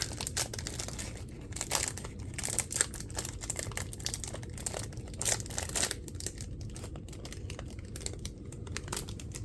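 Plastic packaging crinkles and rips in a series of quick, sharp bursts, close up, with brief pauses between handling noises.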